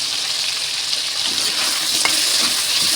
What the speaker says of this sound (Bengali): আলুগুলোকে ভালো করে ভেজে নেব